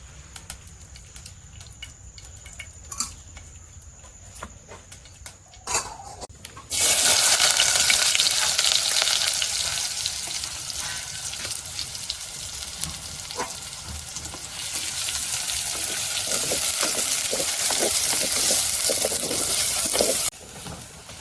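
Onion fries in oil in a clay pot, quiet at first, then a loud hiss bursts out as it hits the hot oil and keeps sizzling steadily under occasional stirring, close by and without talk.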